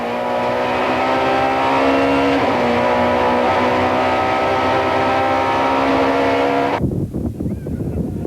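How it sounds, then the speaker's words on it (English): A BMW Super Touring race car at a 1995 South African championship round in East London, captured by an on-board side-mounted camera: a loud, steady engine roar held at high revs, with a brief shift, then an abrupt drop near the end. "terrific action shots from the race cam mounted on the side of Sean van der Linde's BMW Enviro car"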